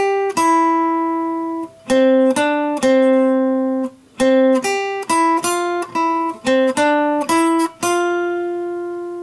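Guitar plays the BPR riff as single picked notes in a quick, choppy rhythm with short pauses between phrases, loud and close with no voice over it.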